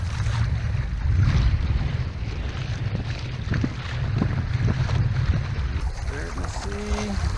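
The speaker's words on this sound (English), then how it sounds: "here comes a gust" A wind gust roars steadily across a sailing kayak out on Lake Erie, with continuous buffeting and microphone wind noise and water sloshing against the hull.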